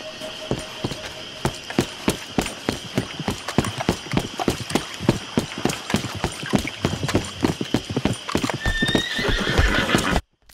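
Rapid, steady hoofbeats of a galloping horse in the Red Dead Redemption video game, loud and close, with a couple of whinnies near the end before an abrupt stop.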